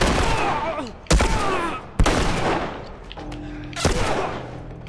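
Assault rifle fire in The Last of Us comes as sharp, loud shots spaced about a second apart, each with a booming echo that decays between them.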